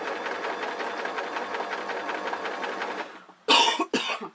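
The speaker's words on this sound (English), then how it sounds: "you bought a sewing machine, let it sew" A sewing machine runs a fast, even stitch through pleated gossamer fabric, close and steady for about three seconds, then stops, followed by a sharp cough.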